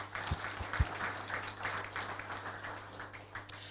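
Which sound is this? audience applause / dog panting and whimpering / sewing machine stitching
audience applause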